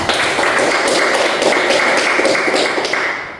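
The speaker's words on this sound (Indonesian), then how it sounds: "kita beri aplaus dulu pada kawan-kawan kita ya" A classroom of students claps for their classmates, a dense, steady burst of many hands applauding at close range for about three seconds, fading slightly at the end.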